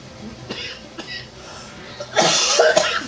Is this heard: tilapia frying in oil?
no